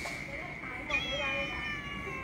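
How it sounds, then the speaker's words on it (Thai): A small kitten gives a single thin, high meow outdoors near a riverside pier on an early-morning run, heard over steady background noise and nearby chatter. "มีแมวน้อยด้วยนะนี่"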